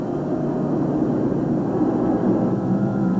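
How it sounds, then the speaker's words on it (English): Waves of WWII bomber planes passing over Monastery Hill, heard as a steady, deep droning engine rumble that holds at an even loudness throughout with no voices. "A few days later, wave after wave of our planes came over Monastery Hill."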